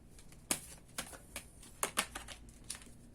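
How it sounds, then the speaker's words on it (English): A tarot card slides out of a deck in a quiet room, with a few soft, sharp papery snaps and shuffles spread across a few seconds, faint and close up. "let's pull one last card for you"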